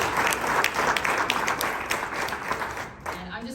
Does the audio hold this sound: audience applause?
yes